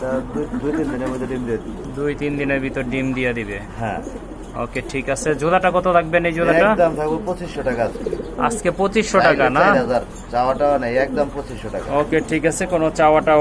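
Imported giant pigeons coo repeatedly in throaty, rolling bursts close by, heard under nearly constant conversation between people.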